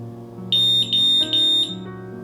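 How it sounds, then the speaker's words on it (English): Three high, piercing electronic beeps in quick succession from a SAFE TECH ST-1 smart vape detector confirming a setting change, sounding over a soft musical background. "the device will emit a corresponding number of beeps to confirm the change"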